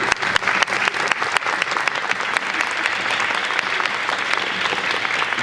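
A convention audience at an anime event applauds loudly and cheers, a dense, steady wash of clapping from a big crowd that stays close and strong throughout.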